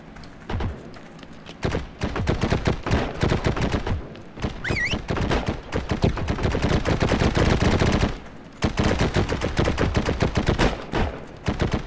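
Rapid bursts of gunfire crackle almost without pause through a Heroes & Generals multiplayer firefight, loud and close, with a brief lull before the shooting resumes.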